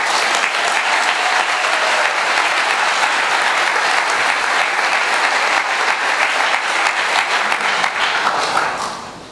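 Sustained, dense audience applause from a large crowd at a birthday celebration for the Parti des indigènes de la République, loud and steady for about eight seconds before tapering off at the end.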